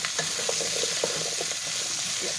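Cut potatoes sizzling and crackling in hot bacon grease in a pan for corn chowder, a steady close frying hiss with occasional stirring scrapes.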